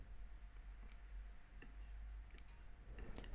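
Several faint, sparse clicks from a computer mouse on a MacBook, spread irregularly over steady background hiss with no talking.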